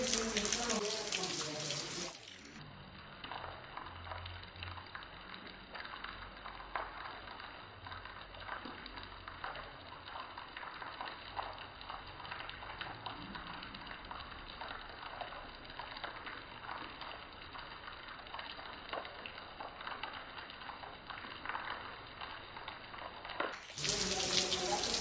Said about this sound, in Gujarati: અત્યારે વરસાદ આવે છે